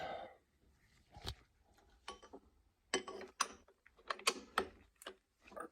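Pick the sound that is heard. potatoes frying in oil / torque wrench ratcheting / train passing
torque wrench ratcheting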